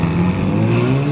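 A Ferrari 458 supercar revs up, its engine note climbing steadily in pitch, loud and close, with no other sounds alongside.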